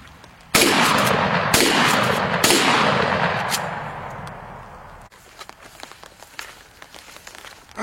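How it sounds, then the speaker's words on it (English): Three loud shotgun blasts from a Remington 8-shot game load, spaced roughly a second apart, each with a long ringing outdoor decay, followed by quieter shuffling and handling noises. "First, we're going to go with the Remington 8-shot kind of game load. I'm just going to pepper them up 3 times."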